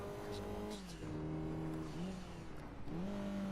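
A Lancia rally car in Martini livery drives in Gran Turismo 2, its engine revving up and down through shifts with a loud, steady game-engine drone and no voices.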